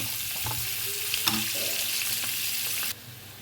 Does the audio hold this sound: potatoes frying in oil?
yes